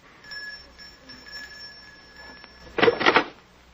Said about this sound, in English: Just ring the bell